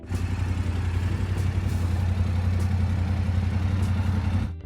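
A motorcycle parallel-twin engine runs steadily at a low, even idle, a throbbing rumble with light mechanical clatter, close and constant throughout.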